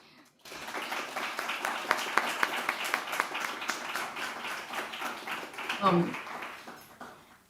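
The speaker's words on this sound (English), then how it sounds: "this deserves a special applause" A crowd claps steadily for several seconds at a literary reading, a dense patter of applause that swells and then fades.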